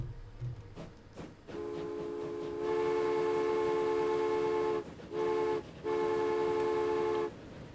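A train in the video game Transport Fever sounds a sustained tonal horn, loud and steady for several seconds, breaking off twice briefly before resuming, over a rumbling engine bed with no talk.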